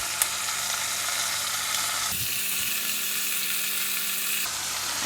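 Garlic, carrot and leek sizzling and frying in a clay pot, a steady loud hiss that runs the whole time, with a brief stir partway through and no talking.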